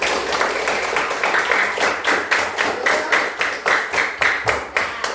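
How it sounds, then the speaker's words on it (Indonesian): A class of fifth-grade pupils at the end of a coding lesson claps their hands in a rhythmic, rapid pattern of distinct claps that grows more pronounced and evenly spaced toward the end, with no talking. "Beri tepuk tangan dulu untuk kita semua"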